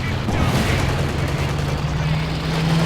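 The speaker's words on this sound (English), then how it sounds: "More explosions coming in here." Battlefield explosions in Company of Heroes 2, a dense rumbling barrage of booms and gunfire under a steady low drone, with a commentator talking over it.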